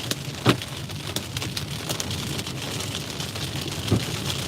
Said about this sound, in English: Big time hail coming in hot.